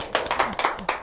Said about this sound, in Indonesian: Tepuk tangan untuk Kang Widi, Bapak Ibu